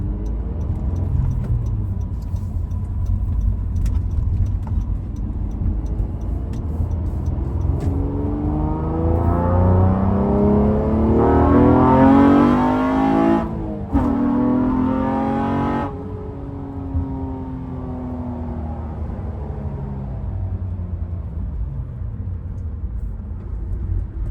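A cammed 9th generation Honda Accord V6 accelerates hard, its engine note rising steadily through the revs, peaking loud and close before a quick shift-like drop, then settling back into a steady drone.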